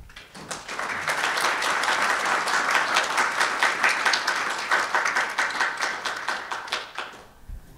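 An audience at a women's leadership conference in the semiconductor industry gives a welcoming round of applause, dense and steady clapping from a sizable crowd that lasts about seven seconds before fading out.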